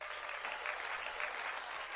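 Canned applause from a livestream's cheer button plays as a steady, quiet clatter of many hands, thin and band-limited, with no voices over it.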